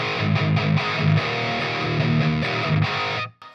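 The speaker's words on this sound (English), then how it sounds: "but if you go to the distortion channel" Distorted electric guitar through the distortion channel of a Fender Champion II 50 amp, loud rhythmic chugging chords played continuously before stopping abruptly.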